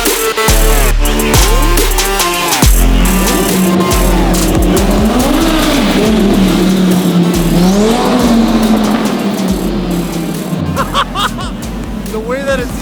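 A straight-piped widebody Ferrari 458 revs hard close by, its engine note rising and falling in loud sweeps over a crowd's babble, with voices talking throughout.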